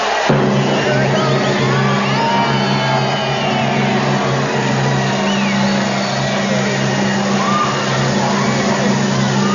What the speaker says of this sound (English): You're going to hear a cheer here like you've never heard before.